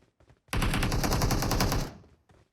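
Automatic gunfire in the video game PUBG, one rapid close burst of shots lasting more than a second and then stopping abruptly, with no talking.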